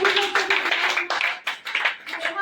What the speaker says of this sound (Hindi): तो चलिए फिर से जबरदस्त ताली